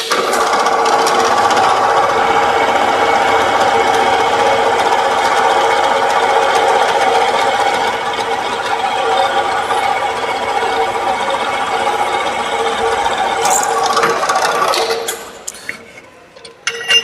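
A drill machine boring a hole in a metal workpiece with a 12 mm drill chuck, a loud steady whirring grind that runs on and then winds down near the end.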